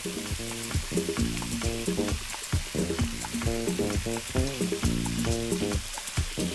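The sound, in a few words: coconut frying and being stirred in a pan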